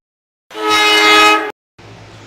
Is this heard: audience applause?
no